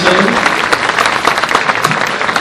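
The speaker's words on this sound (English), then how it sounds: "Let's have one more round of applause for the Boy Scouts" Audience at an outdoor municipal band concert at the fairgrounds gives the Boy Scouts a round of applause, dense steady clapping filling the whole moment from start to finish.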